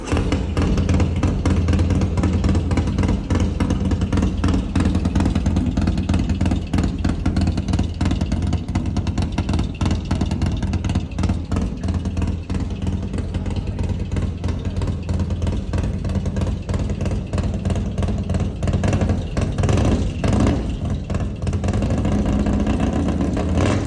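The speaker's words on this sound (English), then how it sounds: "It's got the All American Cycle custom exhaust, and I want to turn it on just so you guys can hear it." A custom-exhausted Harley motorcycle with an All American Cycle pipe idles and rumbles loudly and continuously nearby, with a deep steady throb and slight revving.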